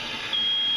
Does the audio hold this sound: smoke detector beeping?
yes